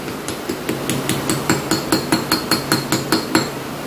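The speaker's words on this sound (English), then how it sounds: "Just take your cap, lightly set it down over it just like that. And just lightly tap it in." A quick series of light metallic taps, about a dozen evenly spaced hammer strikes tapping a trailer wheel bearing cap into place, close and crisp against a low background hum.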